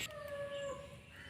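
A young calf cries out for its mother in a drawn, wavering bleat, fairly close, with soft background noise and no talking.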